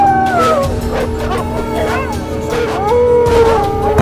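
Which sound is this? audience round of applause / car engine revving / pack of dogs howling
pack of dogs howling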